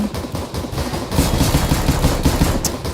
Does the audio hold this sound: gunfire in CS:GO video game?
yes